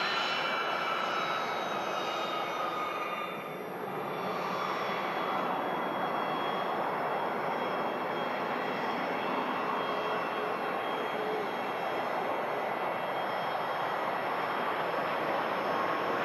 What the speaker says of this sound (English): Touchdown for the Singapore A350, arriving in from Houston